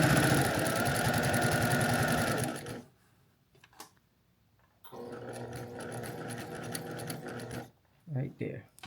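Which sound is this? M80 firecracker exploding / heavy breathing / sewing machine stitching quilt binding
sewing machine stitching quilt binding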